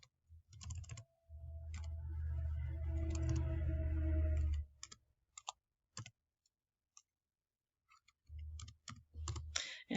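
Typing on a computer keyboard into a graphing calculator, a quiet rapid burst of key clicks followed by scattered single taps and a few more quick keystrokes, close and alone.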